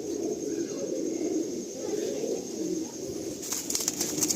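Pigeons coo steadily in a pigeon loft, a dense, continuous murmur of many birds close by, with a brief flutter near the end.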